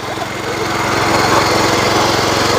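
A small power weeder engine runs steadily outdoors, close and loud, with a fast buzzing drone that builds slightly and a voice under it.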